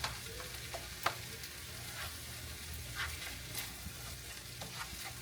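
Shrimp fried rice stirred in a frying pan, a steady sizzle with scraping spoon strokes and clinks at irregular intervals, close and fairly quiet with no voices.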